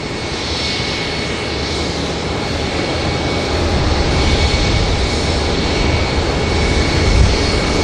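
A Jetstar jet departs Auckland Airport, a sustained loud roar of jet engines building gradually and carrying with steady whine across the whole stretch, heard from a distance at the airfield.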